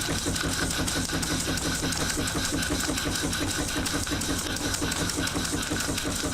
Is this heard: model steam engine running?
yes